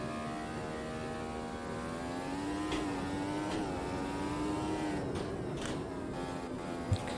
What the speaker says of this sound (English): the old car sounds so much better